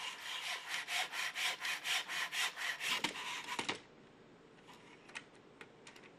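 A Logan F100-2 Pro saw cutting picture-frame molding at 45 degrees with a rocking seesaw motion, a close, rhythmic run of about a dozen rasping strokes, then a few clicks and quiet handling.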